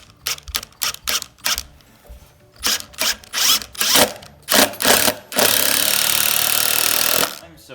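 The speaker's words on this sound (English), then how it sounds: "we also got our screws here to go ahead and screw this in place" A power driver with a T25 Torx bit sinks wood screws into a wooden log bed frame from Michigan Rustics: several short whirring bursts, then one sustained, louder two-second run before stopping.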